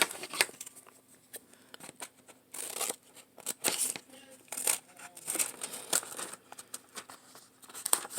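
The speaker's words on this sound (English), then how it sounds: "So now I get to cut my fly out." Scissors cut a paper fly shape out of a drawing for a classroom art project, making quick, close snips and crinkles in irregular bursts. The sound is fairly quiet, with faint paper rustling between cuts.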